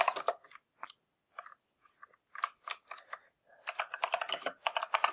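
Fingers tap out bursts of clicky keystrokes on a computer keyboard, close and crisp, with short pauses between flurries and a dense run toward the end.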